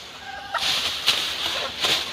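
Chickens cluck in a village coop sheltered with polythene against the cold, their short calls rising a few times over a hissy, noisy background.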